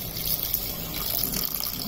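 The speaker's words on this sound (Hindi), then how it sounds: "अब हम डाल रहे हैं इसमें पानी।" Water is poured into a pan of vegetable vermicelli pulao cooking over low gas flame, a steady close gushing splash that lasts throughout, loud and unbroken, with no talking.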